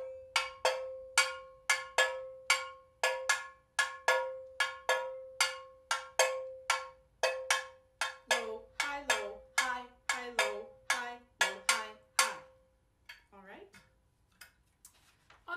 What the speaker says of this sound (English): This is called the cascada pattern.